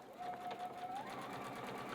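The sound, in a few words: sewing machine stitching fabric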